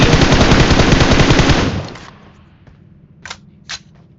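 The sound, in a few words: gunfire in video game BGMI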